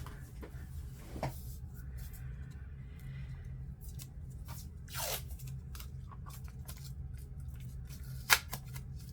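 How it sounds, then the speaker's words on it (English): Painter's masking tape is peeled and torn off a roll for a decorated paper page, giving a few quiet, close rips and crackles with one sharp snap near the end. "I'm going to want to cover that with a little bit of masking tape, I think."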